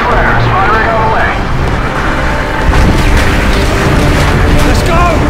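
Artillery shells land in Call of Duty: Modern Warfare 2 (2009) gameplay, with heavy booms and rumbling blasts rolling through a dense, loud battle soundscape while voices talk over it.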